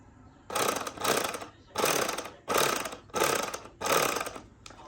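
A knife with two opposing serrated blades is disassembled for cleaning, giving six regular bursts of close mechanical rasping and clicking, each roughly half a second long with short gaps between them.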